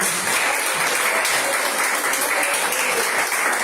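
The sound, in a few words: church congregation applauding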